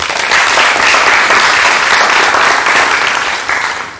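Studio audience at a talk show applauding loudly and continuously, a dense, even wash of many hands clapping throughout with no talk, easing slightly at the end.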